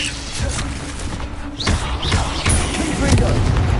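Bombarda spell explosions in Hogwarts Legacy: booming blasts and thuds amid combat effects, with a character's voice shouting over the action.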